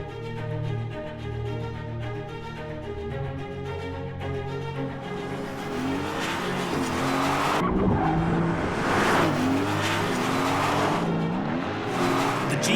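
A Mercedes-AMG GT GTS sports car driven hard, its loud engine howling and rising and falling through the revs, with a burst of tire squeal and skidding partway through; no voices.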